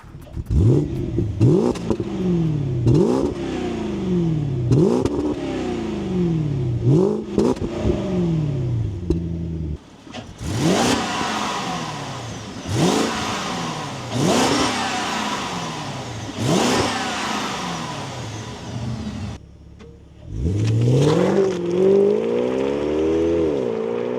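A 2009 Alpina B5 S with a 530 hp engine revs repeatedly while stationary, each sharp rise and fall of the engine note close and loud, with a short pause before several more blips.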